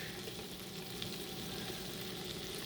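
Minced garlic sizzles in a hot cast iron pan, a steady, dense crackle holding evenly throughout with no voices over it.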